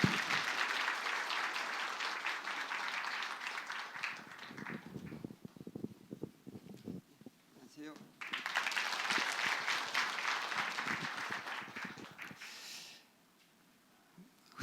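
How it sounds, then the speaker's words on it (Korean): A church seminar audience applauds an elder called to the front, broadband clapping filling the room for about four seconds, fading into scattered claps and shuffling, then a second swell of applause before dropping to near silence. "박수"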